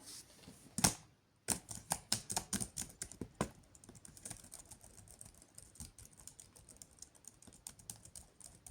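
Fast bursts of clicky key presses on a computer keyboard, close and fairly quiet, with short pauses between runs of typing and no talking.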